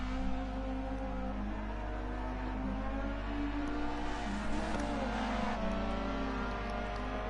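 An S1600 rally car in Dirt Rally 2.0 at the Race of Germany runs through the joker lap, its engine revving hard with rising and falling pitch as it shifts through gears, loud and close.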